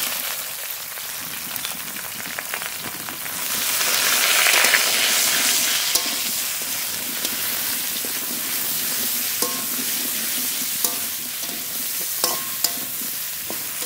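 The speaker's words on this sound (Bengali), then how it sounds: "আস্তে আস্তে জাল দিয়ে নেড়ে নেড়ে পটল খুব ভালো করে ভেজে নিয়েছি" Pointed gourd frying in mustard oil in a wok with salt and turmeric, a steady close sizzle throughout with scraping stirring clicks, the frying swelling louder midway before settling.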